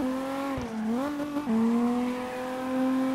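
A BMW E36 drifting in the CarX Drift Racing video game, its engine holding a steady loud drone that dips and climbs in pitch as it slides, with tire squeal over the top.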